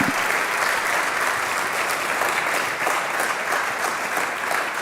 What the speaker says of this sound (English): I invite for one big applause for Professor Katja Mombaur.